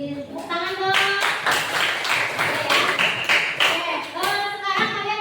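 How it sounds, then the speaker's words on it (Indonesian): A classroom of students claps together in a burst of applause at the end of a science lesson, dense overlapping hand claps mixed with children's voices and chatter throughout. "Tepuk tangan dong."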